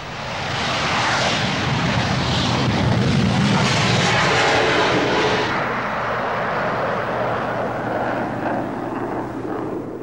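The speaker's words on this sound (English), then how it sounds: "the colossal combined thrust of two R-31 engines fires the 37-ton fighter down the runway like a bullet from a gun" Soviet MiG-25 fighter with two R-31 engines taking off down a runway, a loud roaring blast that surges and then slowly fades as the jet pulls away, with no talk.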